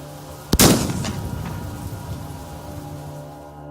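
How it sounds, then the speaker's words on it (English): A single shotgun warning shot fired over someone's head, a sharp loud blast followed by a long fading rumble and echo, with no talk. "It was a warning shot, I guess, to show whoever it was that she wasn't kidding"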